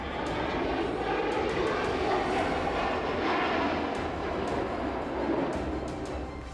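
An LCA Tejas fighter jet flies overhead, a steady, loud broadband engine roar that holds without a break and with no voices over it.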